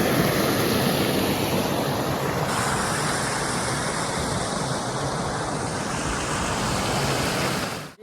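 Steady, loud rushing of knee-deep stream water flowing along a village path toward a waterfall, a dense continuous wash of broadband water noise close by that holds evenly for about eight seconds before cutting off abruptly.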